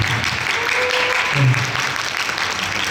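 A theatre audience at a talk concert for the play Bea applauds in a steady, dense wash of clapping that fills the whole stretch at an even level.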